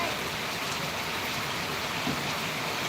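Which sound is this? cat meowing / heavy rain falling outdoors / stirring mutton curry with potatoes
heavy rain falling outdoors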